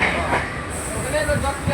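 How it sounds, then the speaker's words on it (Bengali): A passenger train pulls out of Joychandi Pahar station in Purulia, India, with a brief, steady rumble of wheels and carriage noise heard from on board, and voices in the background. "ট্রেন ছাড়লো এখন জয়চণ্ডী পাহাড় থেকে"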